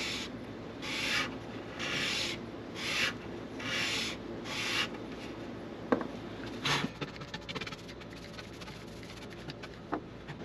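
A 220 grit sanding block rubs over the wooden body of a handmade parlor guitar in a luthier's workshop, about five rhythmic back-and-forth strokes close by, followed by quieter taps and handling noises.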